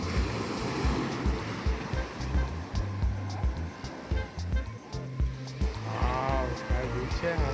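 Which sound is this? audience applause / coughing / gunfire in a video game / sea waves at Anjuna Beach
sea waves at Anjuna Beach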